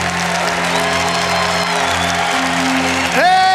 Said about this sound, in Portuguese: Mas se essas palmas são para a vida, tem que ser com vida.